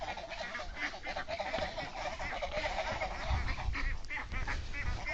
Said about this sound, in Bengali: কত সুন্দর হাঁসের ডাক শব্দগুলো শুনছেন